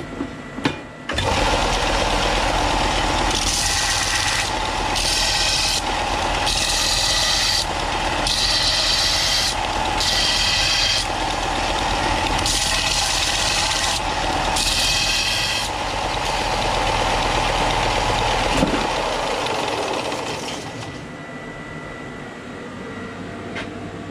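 Metal turbo manifold merge collector pieces worked with a pneumatic air file, a steady buzzing grind running almost continuously with rhythmic pulses as the tool strokes across the edges, close and loud, with no talk.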